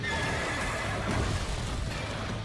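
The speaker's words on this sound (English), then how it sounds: "He sounds like a horse." Boss enemy in Stellar Blade letting out a long, loud horse-like neigh and whinny over game sounds, with faint hoof-like clopping beneath.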